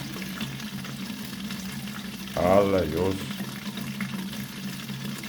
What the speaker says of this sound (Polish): Jeszcze tylko tutaj woda mi hałasuje właśnie z tego przepływu głównego